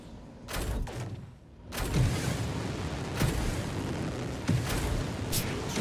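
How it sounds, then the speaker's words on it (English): Explosions in the space combat game Star Citizen during a team-versus-team heavy fighter battle, a run of loud booming blasts at irregular intervals over a continuous roaring rumble, with no talk. "Fireworks for victory, boys!"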